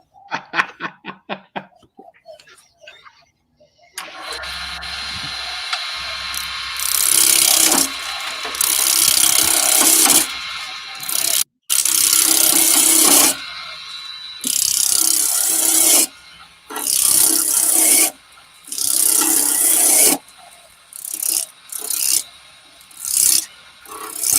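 A wood gouge working into partly rotten timber, with rough scraping and rasping cuts that come in repeated bursts and fill most of the clip, close and fairly loud, with short pauses between strokes.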